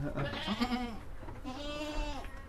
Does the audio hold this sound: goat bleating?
yes